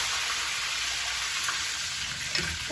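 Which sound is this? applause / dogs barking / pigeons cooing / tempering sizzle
tempering sizzle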